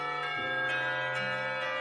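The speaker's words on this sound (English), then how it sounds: "Isn't long before the bells are signaling the end of the break." School bells ringing across the grounds in the visual novel Katawa Shoujo, marking the end of lunch break; sustained tonal chimes with a few new strikes layered over a steady background, no talk.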